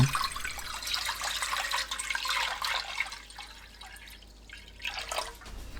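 Two liters of water pour into a pot for boiling eggs, a close steady splashing that thins out briefly midway and then picks up again.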